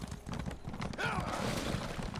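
Horse hooves clip-clopping in The Elder Scrolls Online, a steady rhythmic trot with a brief whinny, heard near and soft over game ambience.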